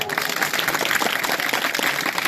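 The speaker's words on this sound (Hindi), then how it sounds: "अपने लिए जोड़ा ताली फिर।" An audience claps in applause at a village gathering, a dense continuous patter of hands that holds steady and close throughout.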